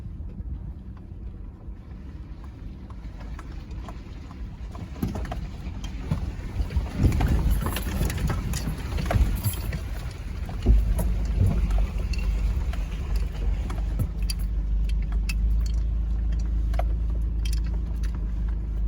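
A Mitsubishi Montero SUV drives through water, giving a steady rushing, sloshing roar with swells of splashing and low engine rumble throughout, while wind buffets the microphone.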